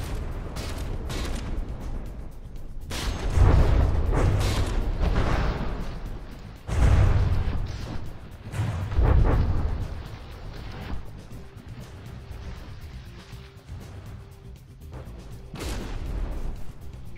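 Heavy warship gun volleys boom in the naval combat game From the Depths, with loud bursts around 3–5 s, again near 7 s and 9 s, over a low rumbling battle din that settles into quieter background noise.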